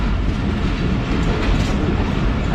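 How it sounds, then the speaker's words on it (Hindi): Pak Business Express train rolling toward Tando Adam railway station on its winter run to Karachi, a loud, steady rumble of wheels and carriages running on without a break. "9:35 में ट्रेन हमारी अप्रोच बना रही है टंडो आदम रेलवे स्टेशन पर"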